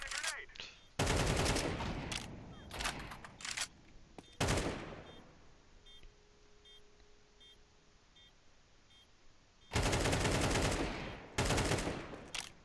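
Counter-Strike gunfire crackles in rapid automatic bursts, with loud volleys at the start and again near the end, separated by a quieter stretch with faint in-game beeps.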